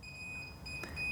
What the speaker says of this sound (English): so 2 short beeps is a confirmation